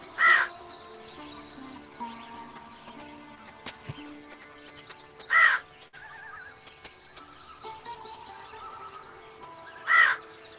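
Three loud, harsh caws ring out alone, spaced several seconds apart over a quiet background.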